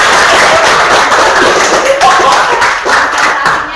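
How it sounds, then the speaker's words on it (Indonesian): Classroom applause as pupils clap together during a lesson, a loud, dense patter of many hands that holds steady for nearly four seconds with a few louder slaps mixed in. "tepuk tangan untuk kita semua"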